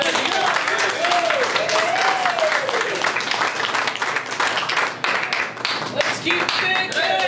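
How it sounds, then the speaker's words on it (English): Lively applause and clapping from a comedy show audience fills the room throughout, with cheering and voices calling out over it, the clapping thinning slightly midway before picking up again. "Let's give a round of applause."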